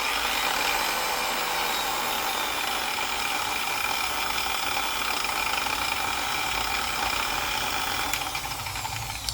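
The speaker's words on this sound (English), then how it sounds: "There is something I noticed that's weird about when you first turn this on. The speed's inconsistent." A Chemical Guys TORQ 15 DA random orbital polisher runs with a steady, close mechanical whine and hum whose speed is inconsistent, continuing without a break and with no talking.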